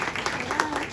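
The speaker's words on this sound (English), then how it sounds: "Big round of applause." An audience at a KFC Add Hope event applauds to welcome a speaker to the stage, a brief, steady burst of clapping with voices mixed in.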